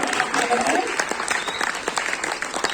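An audience at a traditional song contest final organised by a Seychellois cultural foundation breaks into dense, continuous applause mixed with crowd noise and voices.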